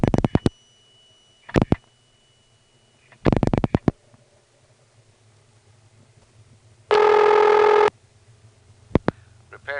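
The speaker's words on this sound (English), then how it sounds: "Each dime makes a double ding of an actual mechanical bell in the phone itself." Dimes drop into a vintage 1970s payphone, each coin striking the phone's mechanical bell with a sharp double ding; three loud coin strikes come in succession, followed by a steady electronic tone and a final short click in a quiet room.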